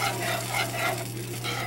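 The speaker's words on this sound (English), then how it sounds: "get that stirred in" Chunks of turkey skin and pieces are stirred into gravy simmering on low heat in a pan, a soft continuous sizzle with swishing stirring strokes under a low steady hum.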